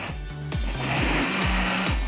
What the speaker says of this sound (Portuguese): Vou bater aqui no liquidificador.